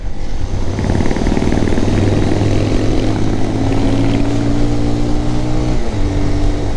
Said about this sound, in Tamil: செமையாக போகுதுங்க வண்டி.